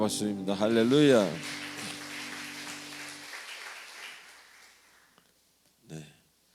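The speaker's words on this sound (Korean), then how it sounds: "우리 하나님께 영광의 박수입니다" A church congregation at a Sunday worship service applauds, a sustained patter of clapping under a voice that fades out, followed by another brief spoken word.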